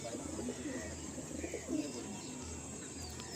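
Pigeons coo softly at a loft housing Teddy and Madrasi breeds, a few low repeated coos with faint chirps over quiet background noise and no talk.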